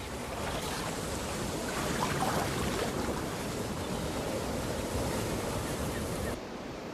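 Ocean waves at sea, with a boat lying at anchor nearby, make a steady, loud rushing wash with wind, continuous for several seconds before easing slightly near the end.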